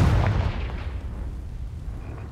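A Confringo fire spell cast in Hogwarts Legacy, heard as one heavy booming blast that rumbles and fades over about two seconds.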